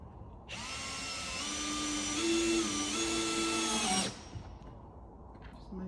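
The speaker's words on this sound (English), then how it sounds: "Now I'm just going to pop a couple of screws in." Cordless power drill driving screws into a kitchen cabinet during assembly, one sustained whirring burst of about three and a half seconds with pitch shifting as the screw bites, then quiet.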